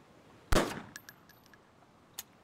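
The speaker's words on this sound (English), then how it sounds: "Stop fucking shooting at it when I'm running past." A single loud, close gunshot cracks out in the DayZ Standalone game, followed by a few faint clicks and a second brief sharp report near the end.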